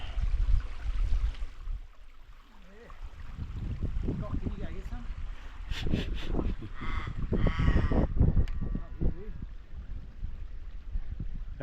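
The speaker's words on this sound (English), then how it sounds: "if there's a crow hanging around" A crow caws a few times in the Australian bush on the Grampians Peak Trail, fairly clear in the middle of the stretch over a steady rush of running water, with no people talking.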